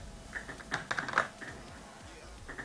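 Someone is typing on a computer keyboard in a gaming setting: a quick, irregular run of light key clicks, fairly close, with a quieter patch and a few more taps at the end.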